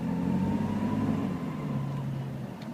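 A Jeep Cherokee Classic driving in third gear with four-wheel high engaged: a steady low engine drone and road rumble at moderate level, with a faint rising whine, no talk.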